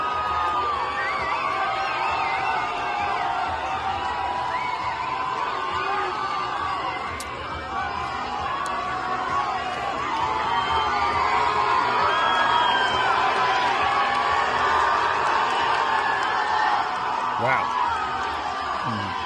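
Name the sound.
big crowd cheering at an event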